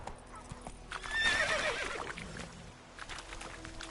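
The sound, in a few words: horse Roach galloping and neighing in video game The Witcher 3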